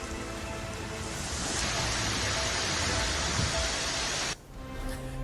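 Heavy monsoon rain pours down in Gurugram, a dense steady hiss of water that cuts off abruptly near the end, leaving a quieter background.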